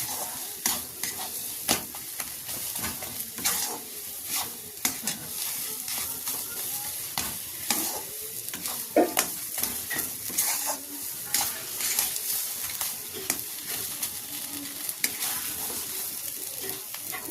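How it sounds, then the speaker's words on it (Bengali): Cauliflower paratha filling fried with roasted cumin-coriander powder while a spoon stirs it steadily, giving a continuous close sizzle broken by frequent scrapes and taps on the pan over many seconds. "দিয়ে আবারও ভালো করে নাড়াচাড়া করে ভেজে নেব।"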